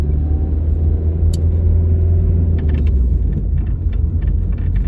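Steady low rumble of a car on small country roads, heard from inside the cabin, with constant road and engine noise and a few faint clicks and ticks, no talking.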